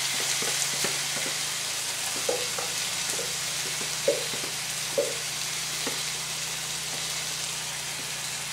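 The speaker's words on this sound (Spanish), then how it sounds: "una vez que ya se ha servido el vino, voy a añadir la salsa original" Sauce added to meat and wine in a pan for stuffed aubergines, a steady close frying sizzle with soft irregular pops and crackles scattered throughout.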